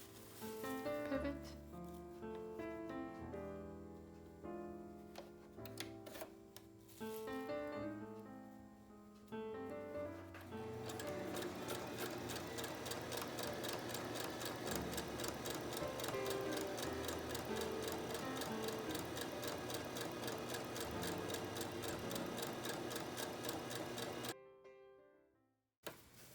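A sewing machine stitches cloth face masks with elastic ear loops, starting in short bursts and then running in a long, fast, steady whir that stops abruptly near the end, loud and close with no talk.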